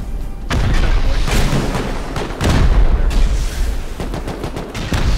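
Rocket explosions during a base fight in Rust, a dense run of loud booming blasts and cracks in quick irregular succession, close and heavy with rumbling tails, no talk.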